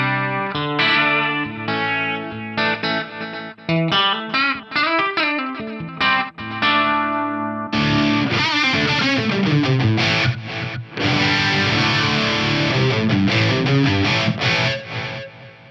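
Guitar played through an Eventide H90 harmonizer program using parallel routing and kill-dry, giving a thick, effected tone with detune and delay; loud, busy chords and melodic runs alone for the whole stretch, with a brief gap midway.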